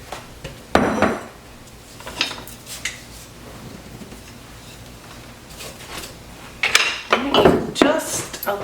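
Broccoli tipped into an oiled pan for honey garlic shrimp and broccoli, giving a few loud clattering knocks and scrapes of florets and utensil against the pan, with a longer rattling burst near the end and quiet gaps between.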